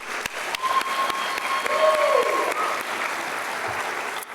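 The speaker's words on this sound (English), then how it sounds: "Let's give another round of applause," Steady audience applause fills a pageant hall after a dance routine, a dense wash of clapping sustained for several seconds with a faint tone and a brief voice beneath it.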